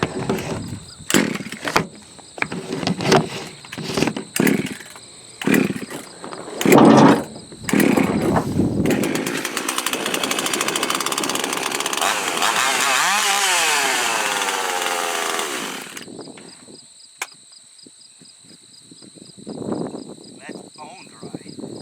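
A Husqvarna 154 chainsaw is pulled over several times with short bursts, then fires and runs loudly for several seconds at a steady roar before dropping off, with a person talking before and after.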